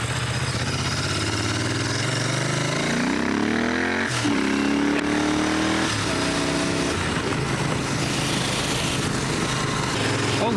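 A motorcycle engine runs steadily throughout while riding outdoors, pitch rising and falling as it accelerates and shifts, close and continuous with wind noise.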